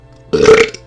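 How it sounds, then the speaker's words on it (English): A single close, loud human burp lasts just under half a second, with a rough, croaky texture and a short tail. "that was a burp."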